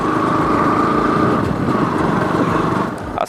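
Motorbike engine droning steadily while riding along a muddy village road, a continuous loud hum throughout with a slight dip near the end.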